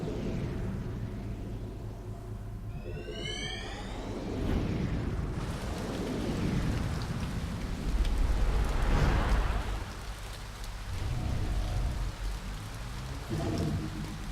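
Rain falls steadily in the video game To The Moon, a continuous hissing patter with rumbling swells and a brief chirping sound early on, moderately quiet and without any talk.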